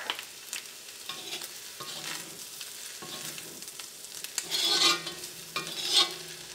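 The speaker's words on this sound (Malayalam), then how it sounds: "ബീഫ് ഫ്രൈ ചെയ്തെടുക്കുമ്പോൾ ഒരു മീഡിയം ഫ്ലെയിമിലിട്ടിട്ടാണ് ഫ്രൈ ചെയ്തെടുക്കാൻ വേണ്ടിയിട്ട്." Beef sizzles steadily in a pan over a medium flame after fennel powder goes in, with a spatula stirring and scraping in a slow irregular rhythm and louder bursts of frying toward the end, no talking.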